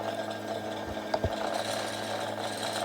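A sewing machine winding its bobbin, driven by the foot pedal, gives a steady close motor whir with a low hum throughout and two brief knocks about a second in.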